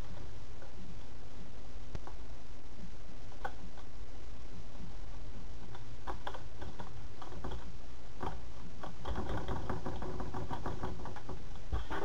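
A password is typed on a computer keyboard with scattered clicking keystrokes, faint at first, then a denser burst of typing near the end, with a steady hum underneath and no speech.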